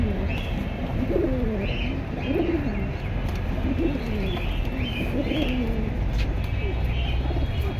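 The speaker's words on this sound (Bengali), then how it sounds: "এগুলো চিকন পাকের কবুতর" Pakistani high-flyer pigeons coo in repeated soft, rolling phrases close by, over a constant low background rumble.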